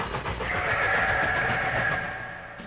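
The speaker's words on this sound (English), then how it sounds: "the laboring locomotive with a heavy train, the express train going by so fast that it took your breath away" A locomotive hauling a train rolls past on rails, a rumbling roar with a sustained mid-pitched whine that swells and then fades away.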